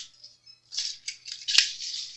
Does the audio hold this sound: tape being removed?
yes